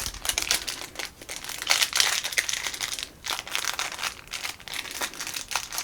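Plastic wrapping is torn and crinkled off a deck of glamour cards from an Unmatched board game box, close up, with irregular bursts of crackling and brief pauses.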